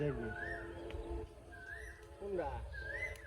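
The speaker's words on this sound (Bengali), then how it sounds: "কোয়েলের আগে ডাকছে একটা পাখি" A bird calls with three rising whistled notes spaced about a second apart, fairly faint, with soft voices and ambient background in between.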